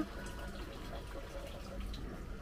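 Water flows steadily through an irrigation pipe and meter in a smart irrigation setup, giving a continuous low rushing hiss with faint gurgles, even in level and without speech.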